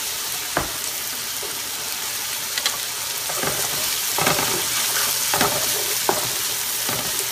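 Onion fries in sesame oil with a dense, continuous sizzle, and repeated scraping stirs and light utensil knocks rise above it, close and loud, with no one speaking.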